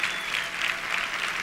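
A church congregation applauds in a steady wash of hand-clapping, moderately distant and even, with no voices standing out.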